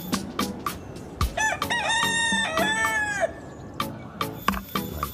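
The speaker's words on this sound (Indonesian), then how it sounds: "ternyata ini si hewan ayam jago" A rooster crows loudly and close in one long drawn-out call, surrounded by repeated sharp clucks and other chicken noises.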